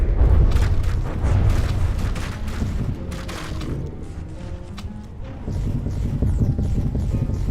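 Heavy explosions as a ship's turret is shot off in the naval combat game From the Depths: loud, continuous booming and rumbling with dense overlapping blasts, no speech.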